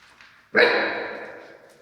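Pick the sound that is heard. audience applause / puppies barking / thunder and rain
puppies barking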